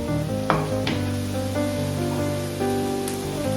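Tomatoes sizzle steadily in a hot pan for a Kerala-style coconut fish curry gravy, with a constant close crackle and a few soft stirring knocks.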